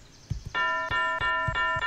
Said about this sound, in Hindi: हाँ घंटी बज गई